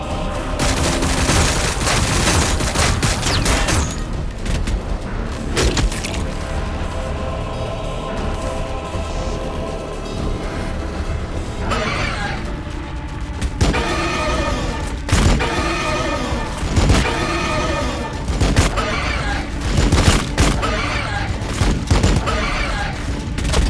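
Sustained gunfire and explosive bursts from a Warhammer 40,000: Battlesector battle, dense and loud throughout with heavier volleys and impacts, layered over a continuous music-like backdrop.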